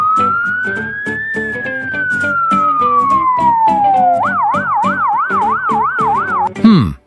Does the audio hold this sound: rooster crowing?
no